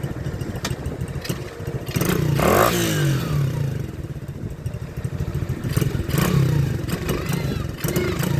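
A motorcycle engine runs and revs as its throttle is twisted, the revs rising and bogging down in a few uneven surges, with clattery mechanical noise around it at close range.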